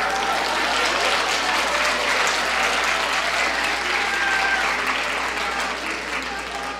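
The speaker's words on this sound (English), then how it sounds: "Go ahead, clap." A conference session audience claps steadily and densely throughout, a loud, even wash of many hands that holds without a break and eases only slightly near the end.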